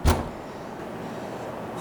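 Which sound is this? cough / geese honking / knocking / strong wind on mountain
knocking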